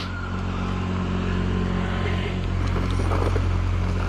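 A Redcat Shredder RC truck on new tires drives with a continuous buzzing motor drone, fairly loud and steady throughout, with brief scuffing bursts near the end and no talking.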